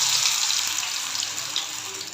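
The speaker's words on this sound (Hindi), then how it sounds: "गरम ऑयल में हम इसको फ्राई करेंगे।" Batter-dipped potato snacks frying in hot oil, a loud, steady, hissing sizzle close by that continues without a break.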